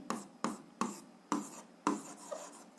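Pen or chalk strokes write out an algebra equation in a series of short scratchy bursts, about six distinct strokes with brief pauses between them, close and fairly quiet with no talking.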